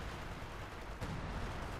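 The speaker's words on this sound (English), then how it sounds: "Tomakaze's machine gun spewing out fire there with the incendiary piercing rounds" Incendiary armor-piercing machine gun fire amid a dense battle in the video game Company of Heroes 2, a dull, continuous rumble of gunfire and distant blasts, faint and unbroken.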